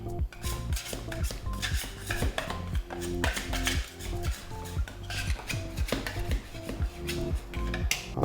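Neapolitan pizza dough mixed by hand in a bowl, with rhythmic squelching and knocking strokes in a steady pattern throughout, close and fairly loud, over a background of tonal music.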